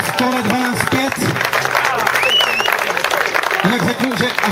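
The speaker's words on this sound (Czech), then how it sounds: "Velký potlesk Oranžádám" Applause for the Oranžády team at a results ceremony, continuous clapping running beneath someone talking over a loudspeaker, with the voice strongest at the start and end.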